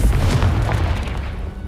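Confringo explosive spell in the Hogwarts Legacy video game lands as a deep, heavy boom with a rumbling tail, loud and close, lasting under two seconds.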